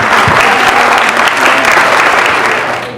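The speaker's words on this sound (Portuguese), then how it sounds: "Recebam com muitas palmas professora Andréia Ketzer Osório" An audience at a school event applauds warmly to welcome a teacher, a dense, loud wash of clapping that holds steady for a few seconds before starting to fade.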